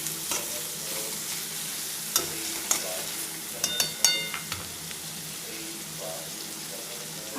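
Vegetables for veg hakka noodles being stirred and tossed in hot oil, giving a steady close sizzle with repeated sharp clicks and scrapes of a spatula against the pan.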